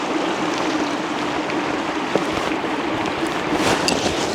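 A river flowing through a canyon where the channel splits in two, giving a steady, broadband rushing wash that holds evenly throughout with no voices.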